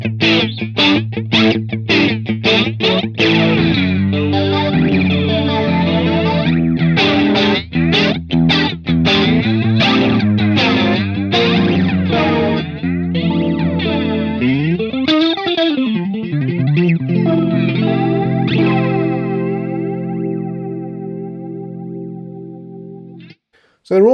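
Electric guitar played through JHS 3 Series modulation pedals, phaser and flanger with reverb switched off, strummed chords and picked riffs with a sweeping whooshing modulation, steady and loud, ending in a sustained ringing chord, no talking.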